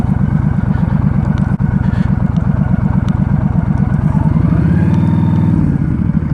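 A Yamaha Star Stryker 1300 cruiser idles and putters at low speed through a parking lot, its close, loud, steady pulsing exhaust shifting pitch near the end as the throttle changes.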